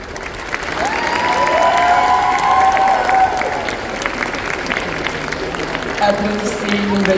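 Loud, sustained applause and crowd noise for cosplayers at a cosplay contest on stage at the Japan Châteauroux 2025 event, a dense continuous clatter with a voice rising over it partway through.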